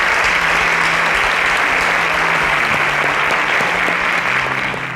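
A studio audience at an innovation competition show gives dense, sustained applause that holds loud and steady for several seconds, with a low hum underneath, before easing off slightly at the end.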